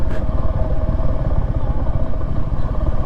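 A motorcycle engine-braking in first gear down a slope, a loud close low rumble with steady pulsing throb and no talk.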